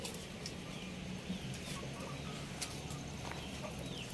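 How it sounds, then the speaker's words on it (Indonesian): Samo, Asil and Cemani chickens roam a garden, giving scattered faint clucks and soft calls over a steady outdoor background hiss, with no people speaking. "Nah, itu ada ayam samo, ayam asil, ayam cemani yang diumbar di kebonan."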